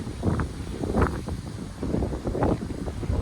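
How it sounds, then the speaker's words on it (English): Wind blowing outdoors, rumbling against the microphone in low gusty buffets that rise and fall over a few seconds, close and fairly loud with no talking. "Hello, wind."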